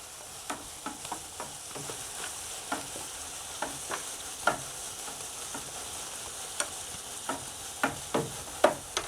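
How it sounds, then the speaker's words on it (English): A spoon stirs brewing mash as it drains from a Grainfather all-grain brewer for an IPA, giving a steady run of soft, irregular scrapes and clicks over a constant gentle hiss of flowing liquid, close and fairly quiet. "I'll quickly stir this while it's flowing out."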